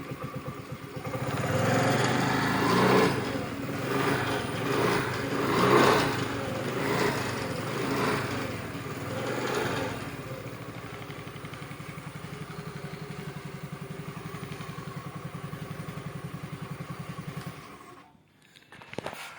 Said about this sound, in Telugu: అదిగోండి సెల్ఫ్ అయితే అయ్యింది.